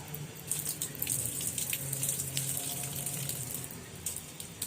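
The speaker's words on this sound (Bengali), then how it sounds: "ওই জন্য ধুয়ে নিচ্ছি আমগুলো।" Freshly cut mangoes washed under a running tap, a steady close splash of water with small bursts and drips as the fruit is turned, alone without talk.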